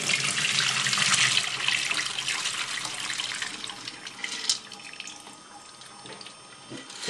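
Tap water runs steadily over broad beans being rinsed for bean stew, a close, full splashing rush that thins out toward the end, with a brief clatter at the finish.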